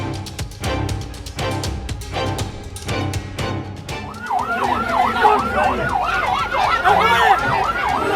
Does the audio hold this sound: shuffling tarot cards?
no